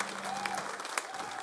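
A concert audience at a show in Dublin breaks into a brief, dense burst of clapping, with a voice speaking briefly over it.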